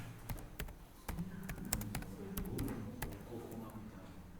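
Keys click on a computer keyboard in quick, irregular bursts, close and fairly quiet, over a low background hum.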